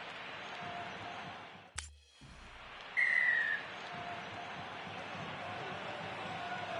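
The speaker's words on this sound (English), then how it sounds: "Blow the whistle from the referee" Referee's whistle in a football video game, a single short, clear blast over a steady background of stadium crowd noise.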